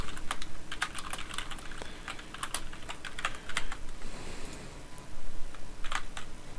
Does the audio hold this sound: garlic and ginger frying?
no